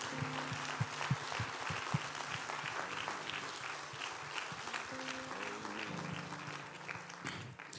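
A church congregation stands and applauds for the pastor's wife, a broad steady wash of clapping lasting several seconds with faint musical tones beneath it.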